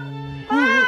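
A kitten meows in a virtual reality prank, a single drawn-out, rising-then-falling cry heard loud and close, preceded by a steady tonal hum.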